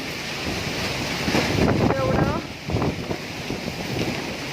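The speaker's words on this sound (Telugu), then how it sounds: "ఎక్కడి నుంచి ఎక్కడికి ఎలా పడుతున్నాయి చినుకులు అంటే వర్షం" Wind and rain in a Hyderabad storm, a constant blustery roar with rain noise under it, and a voice talking briefly in the middle.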